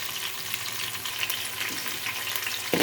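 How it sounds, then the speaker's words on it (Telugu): Onion and green chilies frying in hot oil while being stirred, a steady close sizzle with faint scraping from the spoon throughout. "ఉల్లిపాయ పచ్చిమిర్చి వేసేసి కలుపుకుంటున్నాను ఫ్రెండ్స్"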